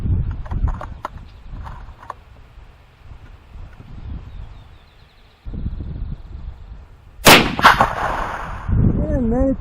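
A single loud gunshot from .223 target shooting at 100 yards cracks near the end and trails into an echoing rumble, after quieter outdoor rustling and handling noise.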